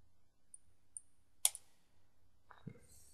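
Computer mouse clicked during a Gods and Idols game session, a handful of faint, sharp, isolated clicks spaced irregularly in a quiet room.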